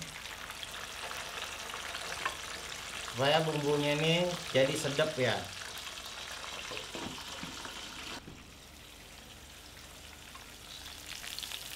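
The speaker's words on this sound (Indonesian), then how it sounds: "Minyaknya udah panas. Kita goreng dulu semuanya ini" Spice paste for catfish sambal fries in hot oil with a soft, continuous crackle and sizzle, while someone talks briefly partway through.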